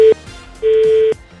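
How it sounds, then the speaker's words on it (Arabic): Telephone dialing tones sound as a call back is placed on a game show, two steady electronic beeps, one short and one longer, loud and clear with nothing else over them. "نعود نتصلوا بمحمد"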